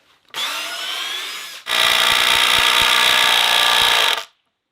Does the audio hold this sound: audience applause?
no